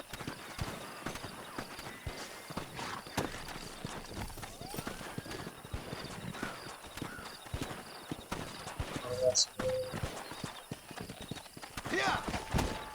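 A horse's hooves clip-clop steadily in Red Dead Redemption 2, moderately close, with a short whinny partway through. Someone talks over the rhythmic hoofbeats.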